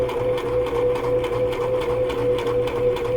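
A sewing machine stitches a curve in fabric, its needle running in a steady rapid mechanical rhythm, close and fairly loud, continuous throughout with no talking.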